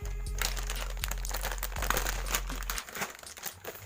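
A bird feed packet being torn open and its contents handled while mixing lovebird feed in a basin, with close, continuous crinkling and crunching of plastic, then a quieter stretch of rustling.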